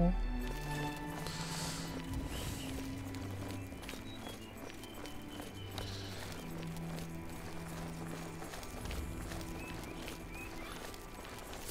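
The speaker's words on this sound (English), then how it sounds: "The next thing I'm gonna steal is a horse." Horse hooves clop in a steady, fairly close rhythm in the video game Oblivion, repeating throughout over faint background game ambience.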